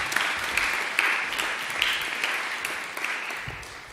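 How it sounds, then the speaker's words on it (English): Audience applause for a speaker at the close of a university talk, a room of people clapping steadily with a few distinct close claps, gradually tapering off. "Can we give Dave a round of applause?"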